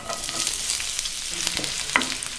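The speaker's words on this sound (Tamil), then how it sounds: "பூண்டு வதங்கினதும் 1 பெரிய வெங்காயத்தை நீளவாக்கில் கட் பண்ணி போட்டிருக்கேன்." Long-sliced large onion frying in hot oil in a pan after garlic, a steady close sizzle with small crackles and soft stirring scrapes throughout.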